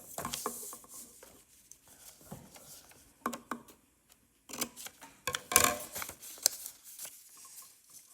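Scissors snipping through folded paper while an origami shuriken is shaped, giving short crisp cuts in small irregular bursts with quiet pauses between them, close by and fairly soft.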